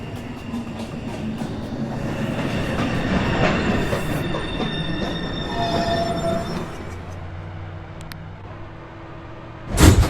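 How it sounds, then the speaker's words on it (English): A downtown local 1 subway train pulls into Beverly Road station, wheels squealing in long high screeches over a rumbling roll that fades toward the end, followed by a short sharp clatter. "Downtown, local 1, train. Approaching the station, please stand away from the platform edge."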